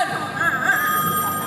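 A telephone ringing with a steady electronic warble, fairly loud and close, filling the brief moment with faint background noise.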